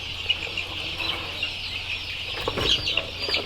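Chickens clucking and squawking around a cage on a poultry farm, a busy cluster of close, sharp bird calls over constant flock noise, no talking.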